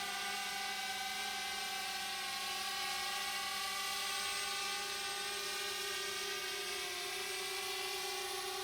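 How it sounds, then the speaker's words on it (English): A camera drone hovers and turns at a bushcraft base camp, its rotors giving a steady, loud, high-pitched whine with constant tonal hum throughout, no talking. "Now the drone's just about facing us."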